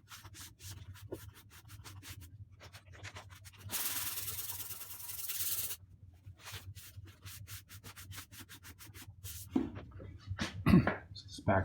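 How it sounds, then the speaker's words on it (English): Steady back-and-forth hand sanding of wood on a tenor guitar back, close and quiet, in short repeated strokes with a longer continuous pass midway. "So I'll just go ahead and sand this down."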